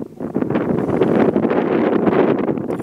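Wind buffets the microphone outdoors during a coin-hunting outing with a metal detector, a loud, rumbling, continuous roar of gusts with no speech.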